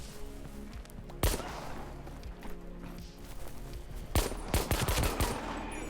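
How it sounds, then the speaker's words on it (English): Gunfire in the video game Active Matter: sharp loud shots and short bursts cut through a quieter game ambience, a couple of heavy cracks spaced apart followed by a rapid cluster of shots. "Everybody shooting at me, the mobs are coming."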